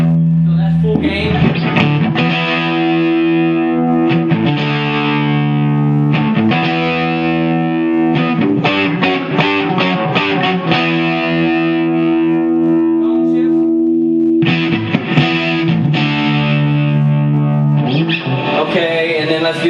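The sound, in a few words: distorted electric guitar amp at full gain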